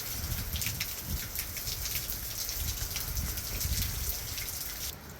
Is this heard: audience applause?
no